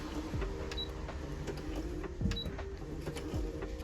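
Sewing machine stitching cosplay fabric, a soft steady mechanical whir with a few short clicking pulses, fairly quiet and close, with no voices over it.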